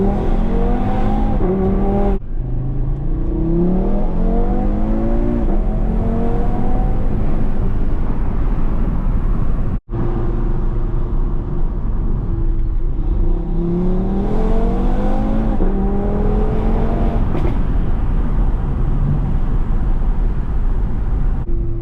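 Audi TT RS fitted with 034 midpipes and a loud aftermarket exhaust, driven hard with repeated rising revs through the gears, a brief lift around the middle, then more accelerating pulls close to the cabin.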